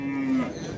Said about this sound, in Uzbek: yaxshi sigir ekan.